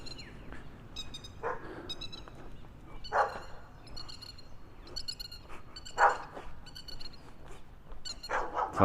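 A dog barks repeatedly at a distance in a suburban neighbourhood of Innisfail, Australia, with spaced single barks and whimpers over a soft outdoor background threaded with chirping birdsong.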